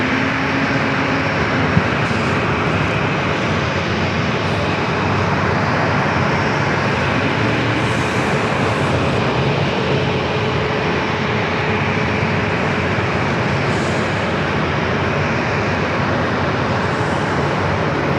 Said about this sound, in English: This flight heading to Chicago here, 737-900ER.